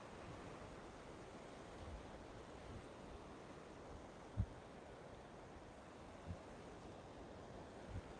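Ocean surf rolling onto a Sanibel Island beach, a steady, soft broadband wash with wind noise on the microphone and a few faint thumps, no talking.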